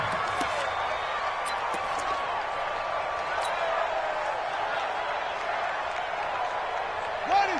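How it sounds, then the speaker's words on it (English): In the Madden 20 football video game, sideline crowd clapping and stadium ambience wash steadily in the background under continuous play-by-play commentary, with a few sharp thuds. "That's why you hear that clapping on the sidelines, right?"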